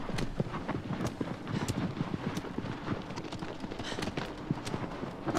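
Horse hooves clip-clop at a steady gallop rhythm in the Shadow of the Colossus video game, a continuous close patter of hoofbeats with faint wind behind and no talking.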